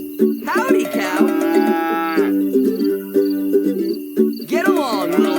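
Cartoon cows moo in long, loud, drawn-out calls, one after another, with a brief gap between them and some faint insect-like chirping in the background.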